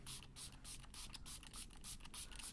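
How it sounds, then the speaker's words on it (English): Makeup setting spray hisses from a pump bottle in a series of short, quiet bursts in a fairly regular rhythm, close to the microphone with no talking. "So a little bit of setting spray just to finish it."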